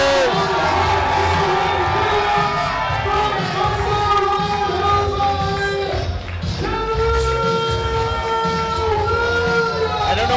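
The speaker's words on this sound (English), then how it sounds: "The crowd responding already." A wrestling crowd at a Pro Wrestling Ulster event cheers and whoops steadily throughout, a loud, continuous roar mixed with tonal entrance music or sirens, dipping briefly in the middle before swelling again.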